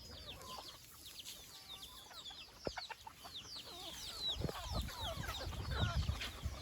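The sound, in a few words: chickens clucking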